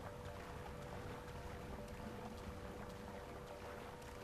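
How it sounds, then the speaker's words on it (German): A motorboat engine in the video game Watch Dogs, a steady droning hum with a faint tonal whine, constant and unbroken throughout, mixed with wind-like wash. "Ein Motorboot auf einer verlassenen Insel kommt doch sehr seltsam."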